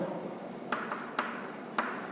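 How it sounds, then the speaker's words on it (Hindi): Marker or pen writing by hand on a board during a chemistry lecture, a faint continuous scratching with a few sharper taps, close and fairly quiet, no talk. "यहां मैं लिखता हूं"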